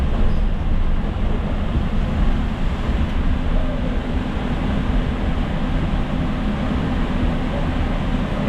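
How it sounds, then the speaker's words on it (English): The Mount Washington Cog Railway train rumbles steadily on its ride up the mountain, a loud, continuous low mechanical roar and rattle from inside the car, with no pauses. "Our ride on the Cog Railway of Mount Washington."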